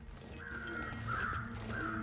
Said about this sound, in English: those owls are creeping me out, man. They're like more surroundy sound now.